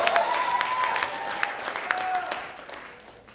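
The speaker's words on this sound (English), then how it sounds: "Applause for it." Scattered applause rises from a comedy show audience, fairly faint and short, with a few sharp claps standing out. A performer's voice can be heard faintly over it before the clapping dies away.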